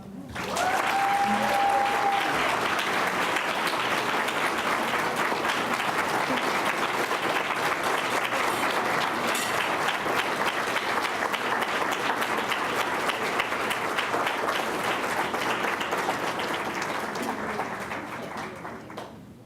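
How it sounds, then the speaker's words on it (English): An audience at a Tri-C Hispanic scholarship luncheon gives long, steady applause after a speech, many hands clapping evenly for nearly twenty seconds before tapering slightly at the end. "Let's give her another round of applause."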